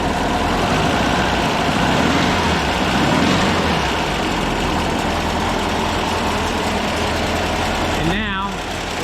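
Air-cooled VW engine pulled from a Split Bus, running on a starter stand, a steady close rumbling idle with a busy mechanical chatter throughout, and a brief voice near the end.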